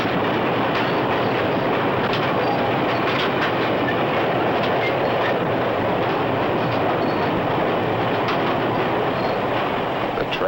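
A 1950s American train rolls steadily along the rails, loud and close, with a constant broadband rumble and faint rhythmic clatter of wheels throughout.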